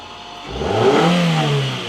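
A Toyota RAV4 engine, stated to cost $10,000 and to be in poor shape after a river crossing, revs hard as the accelerator is floored, swelling loud and then holding a strained roar.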